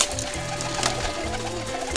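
A rooftop high-flying pigeon cooing in soft, low repeated pulses, fairly close and alone with no voices.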